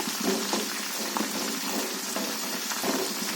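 Herbal hair oil heats in a pan with a dense, continuous bubbling sizzle, close and steady with small crackling pops, and no voices.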